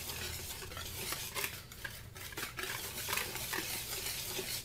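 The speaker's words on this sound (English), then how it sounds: "And you're going to take a whisk. And you're just going to incorporate all that really, really well." A whisk beats pancake mix with cinnamon in a bowl, a continuous close scraping and tapping of metal wires against the bowl with an uneven rhythm and no talking.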